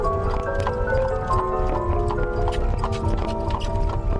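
A horse's hooves clip-clop in a quick, regular rhythm, fairly close, with sustained musical tones playing underneath throughout.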